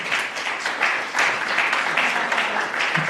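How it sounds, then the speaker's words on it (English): Warm applause from an evening gathering's audience in Karlsruhe, a dense, continuous wash of many hands clapping throughout, fairly close and even in loudness. "a warm applause, please"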